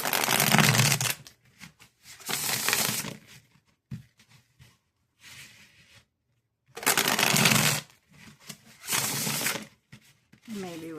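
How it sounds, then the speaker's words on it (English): A new tarot deck is shuffled by hand in bursts of crisp riffling card noise separated by pauses, close to the microphone. "Maybe with a little bit of shuffling,"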